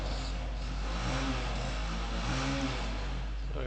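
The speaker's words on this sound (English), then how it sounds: "Sorry about the motorcycle outside." A motorcycle engine revs and hums outside, somewhat muffled, its pitch rising and falling over a steady low drone.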